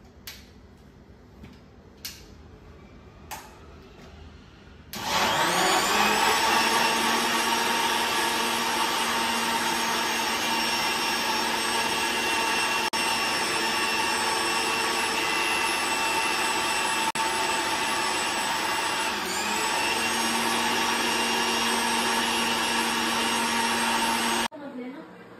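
After a few soft taps, a juicer mixer grinder blending mango shake starts with a loud, steady high-pitched whir that runs for about twenty seconds, dips briefly midway, then stops abruptly.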